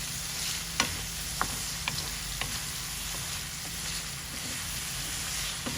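Potatoes sautéing with spices for a spinach and prawn curry, with a continuous low sizzle and hiss in a pan and a few faint spoon taps and scrapes, close up with no talking.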